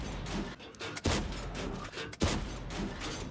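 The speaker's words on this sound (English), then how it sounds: "Let's blind fire." Chieftain tank cannon blind firing in a video game, two heavy booming shots about a second apart, each a sharp broadband blast over a continuous rumbling battle background.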